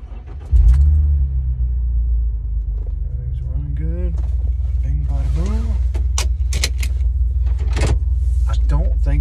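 A red Jeep Wrangler with a Superchips tune and a changed gear ratio rumbles close and loud from under a second in, its engine drone holding steady while someone talks over it.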